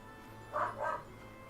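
A dog gives two quick, close barks in succession, brief and fairly soft against a quiet background hum.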